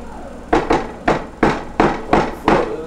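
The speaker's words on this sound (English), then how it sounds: "What the fuck is this door knocking like that" Knocking on a door: seven loud, close, hard raps in an uneven rhythm, some coming in quick pairs, each with a short wooden resonance.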